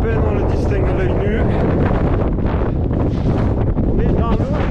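Strong wind on the fog-covered summit of Mont Ventoux roars and buffets the microphone in loud, continuous gusts, with a voice faintly mixed in beneath the rumble.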